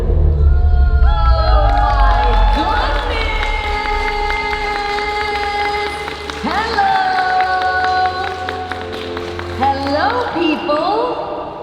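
Convention audience at a Q&A in Ghent welcoming actress Lucie Pohl with applause and cheering, a loud, sustained crowd roar with whoops and shouts layered over steady clapping.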